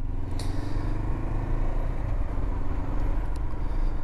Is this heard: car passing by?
yes